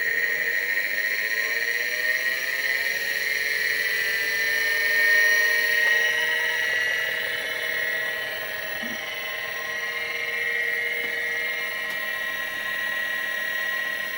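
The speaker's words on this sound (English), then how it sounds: "So the drive just initialized. It spins up and makes some noise." A vintage Seagate ST-251 MFM hard drive spins up with a rising whine, then settles into a steady high-pitched hum and motor drone with faint clicks, continuous and close with no talking.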